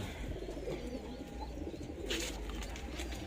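Racing pigeons in a loft coo quietly and continuously, a low, soft murmur with faint rustling in the background.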